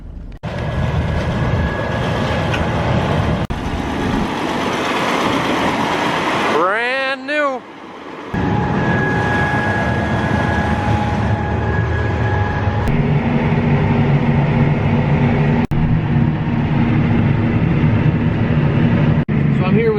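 A train rumbles past steadily with clattering and a high squeal, while people talk over the continuous noise.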